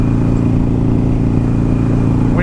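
A Harley-Davidson Iron 883 motorcycle engine running high in 4th gear while riding, a loud, steady, droning mid-pitched exhaust note with no pauses.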